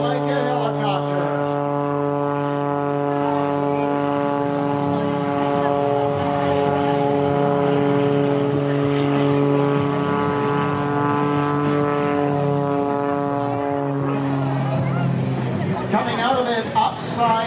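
Loud, droning propeller engine of an MX2 aerobatic airplane close by at an airshow, hovering like a helicopter, its pitch holding steady then shifting, with a voice talking over it.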